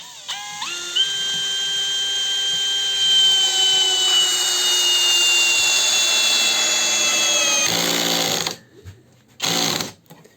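Ronix 8900K brushless impact driver drives a 105 mm long, 8 mm screw into brick, a steady loud whine that runs about eight seconds, then cuts off before two short final bursts.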